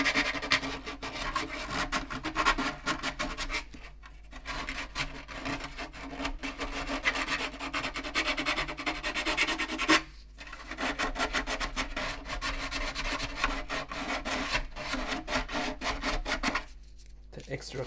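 Sandpaper rubbing steadily around the pickup spot on a wooden classical guitar, a close, continuous dry rasp with brief pauses near the fourth, tenth and seventeenth seconds.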